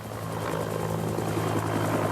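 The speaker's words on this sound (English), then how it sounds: "Then the helicopter took off, and for a few tense minutes flew across the town" A government helicopter flies over a town near Medellín, its steady rotor and engine drone loud and continuous throughout with a low throbbing hum.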